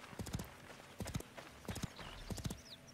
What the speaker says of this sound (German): Es bewegt sich ziemlich hölzern, dieses Pferdchen.